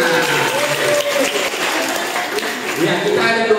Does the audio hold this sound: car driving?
no